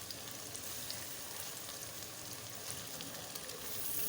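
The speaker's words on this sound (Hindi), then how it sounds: "तो अब ना मैं ये 2 टमाटर भी डाल देती हूँ" Tomatoes sizzle and fry steadily in a hot pan while a chicken curry gravy cooks, a constant close crackling hiss with no talking.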